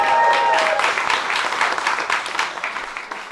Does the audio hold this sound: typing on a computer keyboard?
no